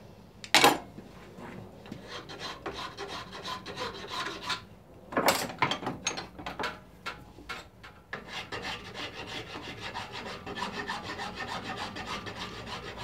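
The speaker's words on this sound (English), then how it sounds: "Probably do with a round file here." A round file works the inside edge of plywood in irregular bursts of close, raspy scraping strokes, with a couple of sharp knocks early on and denser rubbing toward the end.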